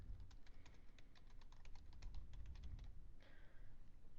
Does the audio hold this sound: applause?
no